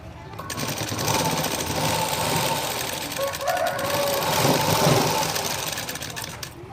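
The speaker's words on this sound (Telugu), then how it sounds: "ఫస్ట్ కుట్టు మాత్రం పర్ఫెక్ట్ మెజర్మెంట్స్తో కుట్టేస్తే ఇంకా మిగతా కుట్లు నార్మల్గా వేసేయచ్చు" A sewing machine runs steadily while stitching the side seam of a garment, a continuous close mechanical whir that holds at a fairly even level throughout.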